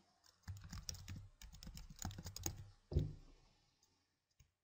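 A computer keyboard clatters with quick, close typing as a folder name is entered, keys tapping in a brief irregular burst that ends with a firmer final keystroke, quiet and without talk.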